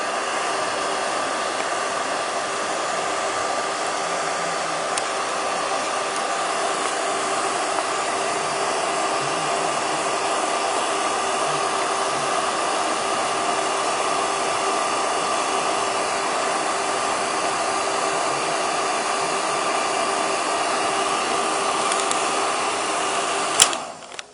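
A hair dryer blows steadily at close range with a constant whooshing hum, then clicks off at the very end.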